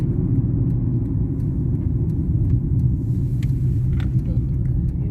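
A car drives along a road near a small lakeside village in autumn, a steady, loud low engine rumble and road noise from inside the car, with someone speaking over it.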